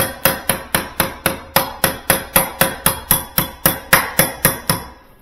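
A rapid, steady series of about twenty brass-tipped hammer blows on freezer aluminum, loud and close, with a bright clanging ring to each hit.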